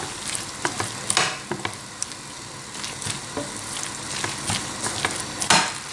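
Nem stuffing mixed with beaten egg sizzles and fries in a pan, with bursts of scraping stirring strokes throughout, close and steady, without any talking.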